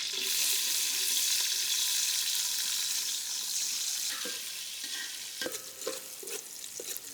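Chopped onion sizzles in hot oil with cinnamon and cardamom for chicken biryani, a steady close frying hiss broken near the end by a few scraping stirs of the spoon.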